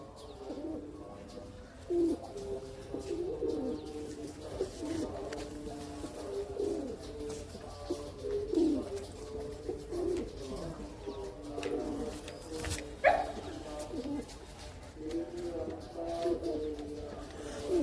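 Soft, repeated cooing of pigeons, several low throaty calls spread across the clip, fairly near, over a quiet background with faint murmuring voices.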